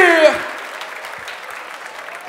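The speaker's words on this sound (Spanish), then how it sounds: "Un fuerte aplauso para los dos" Crowd applause breaks out at a Red Bull Batalla de los Gallos rap battle in Buenos Aires, Argentina, a dense wash of clapping that stays steady for a couple of seconds after a brief voice at the start.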